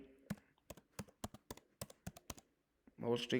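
A quick run of crisp key taps on a computer keyboard as a web search is typed, close and clear, about a dozen clicks in uneven bursts before a voice starts talking.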